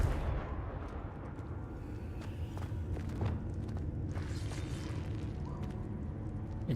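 A Confringo spell explosion in Hogwarts Legacy: a rumbling, muffled blast among scattered thumps and impacts over a continuous low game din, with no distinct talking.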